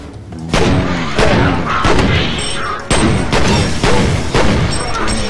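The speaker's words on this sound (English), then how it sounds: "I'm gonna take him out with my pistol." Pistol shots ring out in the video game F.E.A.R., a series of loud, sharp gunshots spaced about every half second to a second, each with a booming thud and a short ringing tail, heard close with no one talking.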